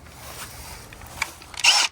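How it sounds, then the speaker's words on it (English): A power drill spins a compost mixing attachment, starting quietly and rising into a short, loud whirring burst near the end, heard close up without talk. "You just chuck this little thing up in your drill"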